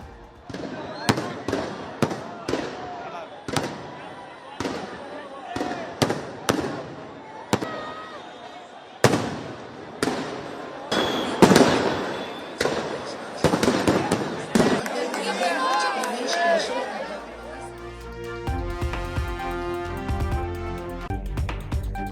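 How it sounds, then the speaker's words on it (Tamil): A fireworks display at a Gujarat Titans fans' victory celebration: many sharp bangs and crackling bursts arrive in irregular succession, and music rises toward the end. "வானில் வண்ண வண்ண வான வேடிக்கை நிகழ்த்தி உற்சாகம்."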